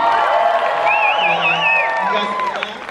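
An audience at VidCon cheers and whoops with scattered clapping, a loud, lively crowd roar that holds throughout with high shouts rising above it.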